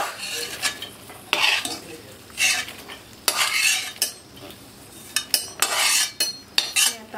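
A spoon scrapes and clatters against a pan while pistachios roast in ghee, a series of irregular metallic stirring strokes over a faint sizzle, close and moderately loud, with no talking.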